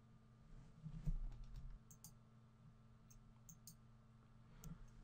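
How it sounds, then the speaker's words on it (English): Soft keystrokes on a computer keyboard come in a short irregular burst as a file name is typed, faint and alone against a quiet electrical hum. "And then what we need to do is type in a file name and tell it where to save."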